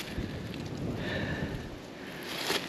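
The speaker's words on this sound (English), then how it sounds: "getting windy out" Steady wind rushes across an open microphone on a hilltop at Titanite Hill, a broad continuous roar with gusts swelling near the start and end.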